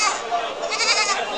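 Goats bleat amid the bustle of a crowded goat market, the calls blending with nearby voices and general crowd noise at close range.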